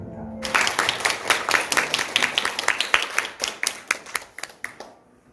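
Audience applause at a Korean church testimony event: a crowd clapping steadily for about five seconds, dense overlapping hand claps with a few louder individual claps, then fading out.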